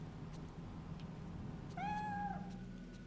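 One distinct cat meow in the PS2 horror game Project Zero 3, a drawn-out mid-length cry arriving late over a constant low background drone, with no voices.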